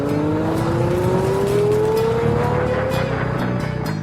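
A Lamborghini Murcielago LP640 V12 engine revs loud and close, its tone climbing steadily through a continuous run of rising revs with no voices.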